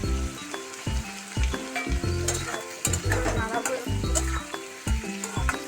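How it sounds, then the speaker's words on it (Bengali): Onion, green chilli and tomato hit a pan of frying cumin-spiced potato curry, giving a loud, steady sizzle with recurring stirring scrapes over background music. "এবার কিন্তু পেঁয়াজ আর কাঁচা লঙ্কা আর টমাটো ডেলে দেবো এবার"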